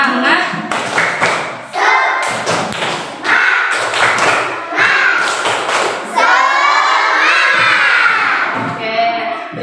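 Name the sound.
schoolchildren doing a rhythmic clapping cheer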